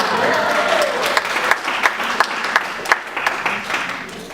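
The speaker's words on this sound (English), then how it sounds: "Let's give them a round of applause." An elementary school parent honor society ceremony, where an audience breaks into warm, sustained clapping, with some sharp individual claps standing out as the applause slowly fades.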